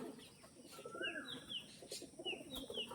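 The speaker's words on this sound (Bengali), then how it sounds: "সুন্দর কোয়ালিটির পায়রা।" Andhra pigeons coo and call softly in short rising notes over a murky, low-level background, several brief calls scattered across a few seconds with no talking.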